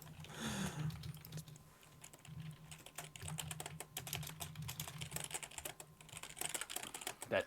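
Steady, rapid clatter of fingers typing on a computer keyboard, with continuous uneven keystrokes over a low background hum, close and moderately loud throughout.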